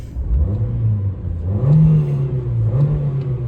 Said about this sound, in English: Very, very eager sounding little engine that.